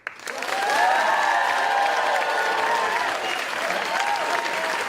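An audience at a school talent show breaks into loud, sustained applause that swells quickly and holds steady, with a dense crowd of clapping hands filling the hall.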